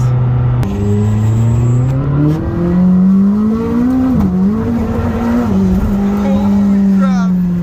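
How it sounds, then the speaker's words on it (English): A McLaren 620R engine revs hard and climbs in pitch with raw race-car character, loud and close throughout, with a few upward swells and a brief squeal near the end. "Totally sounds like a race car."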